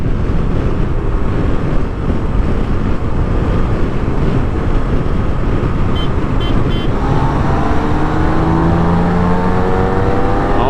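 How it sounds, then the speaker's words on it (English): A tuned BMW K1600 GT motorcycle accelerates in fifth gear under a constant heavy roar of wind and road noise. A rising engine tone emerges over the last few seconds. "hold on, we got fifth gear"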